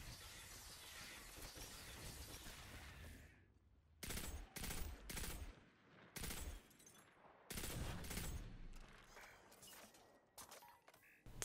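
Gunfire in the video game Destiny 2 during critical-hit shots, sharp bursts of rapid shots in separate volleys after a few seconds of low noise, loud and close, with no talk.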